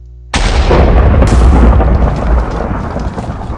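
Cannons firing cannonballs in a modded video game, a sudden thunderous boom that rolls into a sustained rumbling roar of overlapping blasts, loud and continuous, with no talk.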